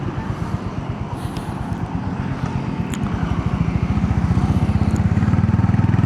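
A Honda CB 350 motorcycle rides along with a steady, close engine thump whose rhythmic pulses quicken and grow louder as it accelerates, with no talk.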